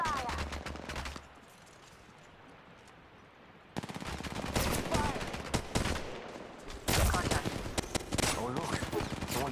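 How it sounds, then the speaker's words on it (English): Automatic weapons fire in the Apex Legends battle royale game: rapid bursts of gunshots that start, pause briefly and then resume loudly and densely during a squad fight. "There's another squad attacking. Opening fire."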